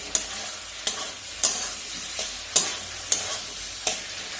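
Masala sautéing in oil for a Bengali curry, a soft sizzle under sharp, regular scrapes of a spatula against the pan, roughly every half second, close and without talk.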